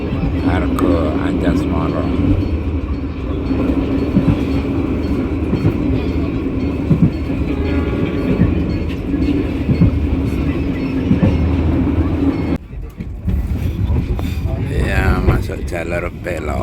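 Passing train on a double-track line near Sidoarjo, a steady loud rumble of rail traffic lasting throughout, with a brief drop before the noise resumes; talk is present over it.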